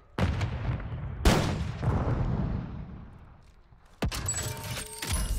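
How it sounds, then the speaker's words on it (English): A grenade blast in Call of Duty MWIII resurgence mode bursts loud and near, its rumbling tail fading over a few seconds before a second sharp explosion hits. "Throwing grenade!"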